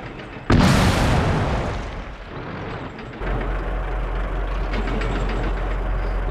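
World of Tanks tank cannon firing: one sudden loud boom that decays over about two seconds, followed by a steady low engine rumble, with no talking.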